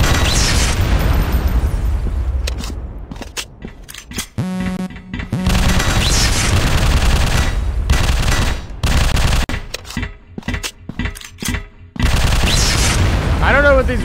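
Loud automatic gunfire from the shooter game Machine Hunt, with rapid bursts and booming blasts broken by short pauses, mixed with odd game effects and occasional talking.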